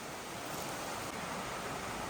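Waterfall at Ingleton waterfalls, a dense steady roar of rushing water, fairly faint and constant for a couple of seconds, with no talking.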